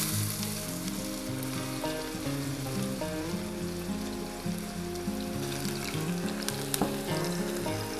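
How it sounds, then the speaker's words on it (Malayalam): Chopped onion sizzles steadily in hot ghee and oil, a dense, continuous frying hiss heard close up, with music playing underneath throughout. "നമ്മൾ ഒഴിച്ച ഗീയും ഓയിലും നന്നായി ചൂടായതിനു ശേഷം നമുക്ക് നേരത്തെ കട്ട് ചെയ്ത് വെച്ച ഒനിയൻ ഇതിലേക്ക് ഇടാം"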